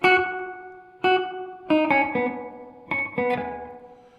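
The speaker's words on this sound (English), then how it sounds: "It's almost like your delay is really a slapback reverb on this amp." Guitar notes through a Kustom KG100FX112 amplifier ring out one after another, each followed by a quick, choppy repeat and a lingering tail, giving a close slapback echo.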